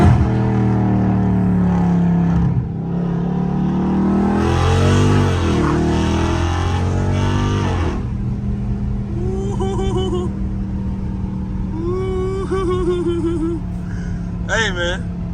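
Catless Dodge Scat Pack exhaust revving in sport mode, a loud deep rumble that swells to a hard roaring rev before settling back to a steady drone, with people talking over it.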